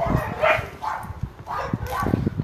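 A large shelter dog, part shepherd and part malamute, gives short yips and whimpering barks in bursts, close by and mixed with a person speaking.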